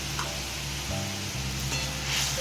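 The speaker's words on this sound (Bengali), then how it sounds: "এবার মশলাটাকে ভালো করে কষিয়ে নেব।" Spices such as cumin, turmeric and chili powder sizzle and crackle steadily in hot oil in a pan, a soft continuous frying hiss at close range with no talking.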